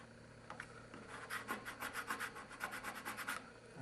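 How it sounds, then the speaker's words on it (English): A squeegee is rubbed firmly back and forth over vinyl PRR lettering, making a quick run of rhythmic scraping strokes, close and fairly quiet, with no talking. "Now you get your squeegee."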